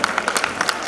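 Students at a school annual function in Mansa clap to welcome a municipal chief officer. The claps come in quick, sharp, separate bursts and stay close and fairly loud through the short moment.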